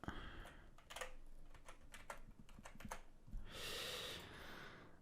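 Quiet keystrokes on a computer keyboard tap in irregular bursts as a password is typed, with breathing audible close by.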